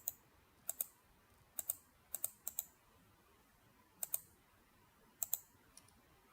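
A computer mouse clicks crisply nearby in quiet surroundings, giving about a dozen sharp clicks, several in quick double pairs, spaced irregularly across a few seconds.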